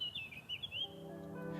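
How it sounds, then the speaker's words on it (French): Birds chirp and sing in a deserted, locked-down Strasbourg city square, with a few quick tweeting phrases at first and then a quieter sustained call over faint background hum. "Il n'y a que les oiseaux pour encore donner de la voix."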